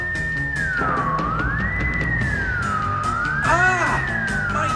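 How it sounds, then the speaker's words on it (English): A loud, piercing electronic tone sweeps up and down in pitch like a wailing siren, continuous and close, with a warbling burst near the end. "the air is filled with a piercing, ear-splitting sound"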